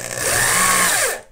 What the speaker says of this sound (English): take my drill, and I'm going to just start the screw here